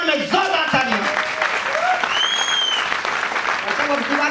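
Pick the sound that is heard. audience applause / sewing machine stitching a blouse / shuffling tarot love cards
audience applause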